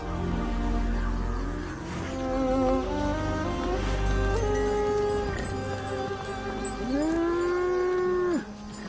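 Cattle moo several times in a row, long drawn-out calls that rise and fall, loud and close, with one call ending abruptly near the finish and no speech over them.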